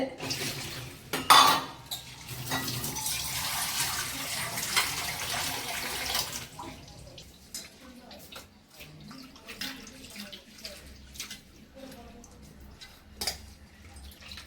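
Leftover cooked rice is washed in water in a metal vessel in a home kitchen, giving close splashing, sloshing and clinking against the pot, louder at first and then softer, intermittent handling.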